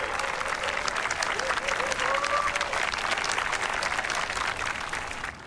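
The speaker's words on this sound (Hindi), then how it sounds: "जोर से तालियां बजाइए ताकि इन्हें एक अच्छी और लंबी जिंदगी साथ बिताने का आत्मविश्वास मिले।" Wedding guests applaud a newly married couple, steady dense clapping from a crowd at close range throughout, with brief faint vocal tones rising over it.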